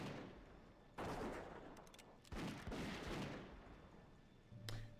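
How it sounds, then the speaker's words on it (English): Default gunshot sound for a giant cannon firing in World of Warcraft, with several loud booming blasts in sequence, each followed by a short fading rumble. "I feel like there should be a much better sound for a giant cannon than... Default gun sound."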